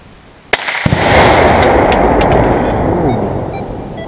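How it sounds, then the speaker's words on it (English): A mini rocket firework launches with a sharp bang, followed by a loud, sustained whooshing hiss that carries on for several seconds up close. "I'm gonna start with my mini rocket."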